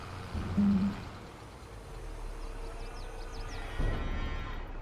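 Cows moo on a video game farm, with one clear, fairly close low moo near the start. A steady ambient hum follows, and a fainter bellow and some chirps come later.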